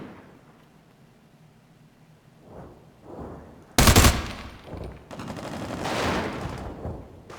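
Gunfire in a shooter video game sounds in scattered bursts: a sudden loud blast near the middle, followed by sustained rattling fire and rumbling impacts, with quieter muffled shots earlier.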